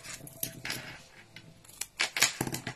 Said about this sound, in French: J'avais dit que je prendrais pas ces ciseaux pendant les lives, que ça fait du bruit